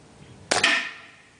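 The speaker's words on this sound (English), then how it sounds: "Another shot with silencer this time." A BSA Scorpion T10 .22 air rifle fired with a silencer: a single sharp, muffled crack followed by a brief ringing tail, alone against quiet surroundings.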